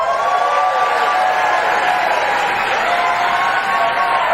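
A Florida gubernatorial debate audience applauds and cheers the candidates, a loud, steady wash of clapping and crowd noise with a few whoops, sustained without a break.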